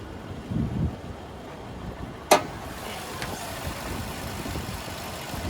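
A 2011 Toyota Camry's 2.5-liter four-cylinder engine idles with a steady, low hum, and a single sharp click stands out partway through.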